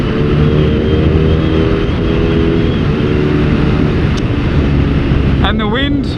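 A BMW R nineT motorcycle engine hums in a low, steady drone while riding at a fair pace, overlaid with wind rush and a rider talking over it, with a brief higher tonal squeal near the end.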